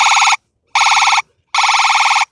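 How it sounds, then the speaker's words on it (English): Bright electronic phaser effect blasting from a powerful speaker on a Trek Dual Sport+ e-bike with Shimano Steps, three loud warbling bursts separated by short silent gaps. "And now the phaser."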